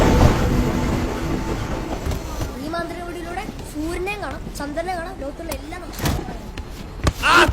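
A passenger train runs on rails in a comedy scene, its rumble and rattle steady beneath several people talking and calling out near a carriage door.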